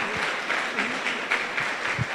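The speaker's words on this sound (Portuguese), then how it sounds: "Vamos aplaudir, gente?" A church congregation claps together at a sermon, a steady dense patter of many hands that sits close and fairly soft, with a few louder bursts and no speech over it.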